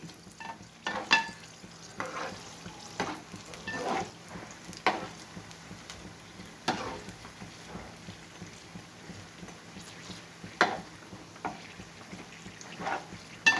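Mirchi bajji fry in hot oil, a quiet steady sizzle broken by soft crackles and stirring taps, near and alone with no talk.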